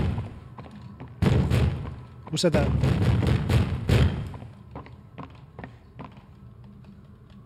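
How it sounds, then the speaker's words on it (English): Banging on doors in the video game Poppy Playtime Chapter 3, a run of loud, heavy thuds and booming knocks in a quick series, fading to lighter taps, with people talking over them. "It just bangs doors."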